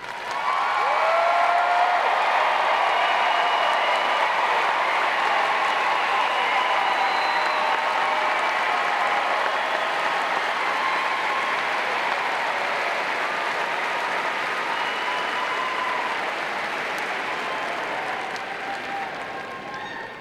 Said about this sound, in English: will you please stand so that we can applaud your accomplishments?